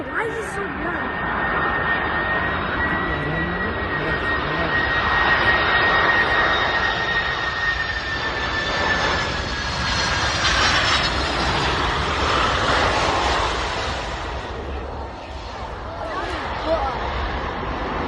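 A Boeing 747 jet airliner roars loudly overhead as it comes in to land, a sustained broadband jet rumble with whining engine tones that swells and slowly fades, with people talking nearby.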